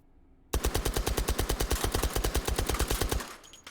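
Suppressed H&K UMP 45 fired in the VR shooting game H3VR: one sustained automatic burst of about thirty rapid, evenly spaced muffled shots, loud and close, ending abruptly after nearly three seconds.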